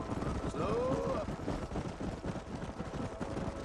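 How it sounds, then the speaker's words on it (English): Horse hooves drum steadily at a gallop across a canyon trail in Red Dead Redemption, a dense rapid patter with wind under it and a brief voice over the top. "The noise of the horse."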